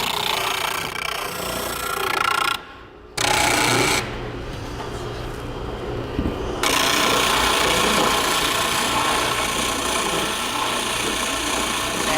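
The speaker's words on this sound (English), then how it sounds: "I've started sanding the board" Continuous raspy sanding of wood, close and loud, with a brief pause and a quieter stretch before the steady abrasive scrubbing resumes.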